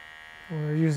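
An electric hair clipper switches on halfway through during a barber's haircut, its steady close buzz holding to the end.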